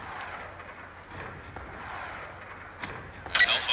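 Lodestar killstreak strikes in Black Ops 2 give a muffled, rolling rumble of distant explosions under a continuous battle din, ending in a sharper burst.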